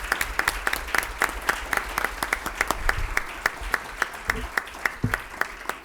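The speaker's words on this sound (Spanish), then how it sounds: "le brindemos un fuerte aplauso en su desarrollo profesional" Faculty audience at an internal international investment arbitration moot court claps for the speakers, a modest gathering of sharp, fairly sparse handclaps continuing steadily with a faint low hum beneath.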